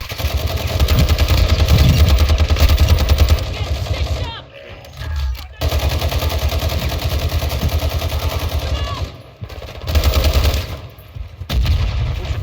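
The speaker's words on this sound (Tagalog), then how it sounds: "May nagpaparilan dyan ha." Rapid bursts of video game gunfire and explosions crackle almost continuously, pausing briefly a few times, with a steady engine hum underneath.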